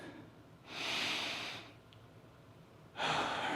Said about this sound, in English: One more deep breath in